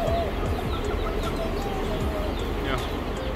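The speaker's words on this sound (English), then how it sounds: "these are white Cornish chickens" White Cornish chickens at a farm feed store cluck and murmur continuously in a busy flock, with occasional higher chirps over a steady background hum and faint voices.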